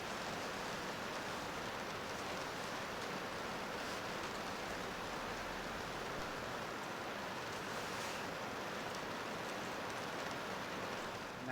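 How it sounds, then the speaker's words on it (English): Steady rain pours outside as a continuous broad hiss, constant and unbroken throughout, with no voices over it. "Again, sorry for the background rain."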